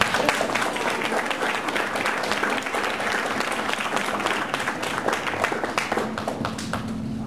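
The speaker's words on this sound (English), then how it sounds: "Can we have a round of applause for Beth?" Sustained audience applause after a visual storytelling presentation, many hands clapping in a thick, even wash that stays loud throughout and fades slightly toward the end.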